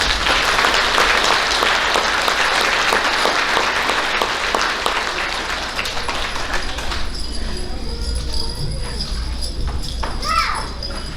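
An audience at an elementary school awards ceremony applauds: dense, steady clapping from a large crowd that fills the room at full strength, then eases slightly toward the end.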